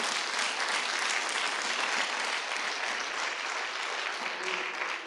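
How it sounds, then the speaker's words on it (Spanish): A church congregation breaks into loud, dense applause during a Sunday Resurrection sermon, a steady wash of many hands clapping at once with no break for the whole five seconds. "Dale un fuerte aplauso al Rey."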